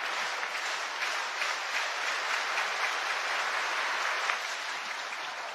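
Over 40,000 fans in a baseball stadium at PNC Park in Pittsburgh join in a synchronized clap, a dense, steady wash of crowd clapping and noise that holds evenly throughout.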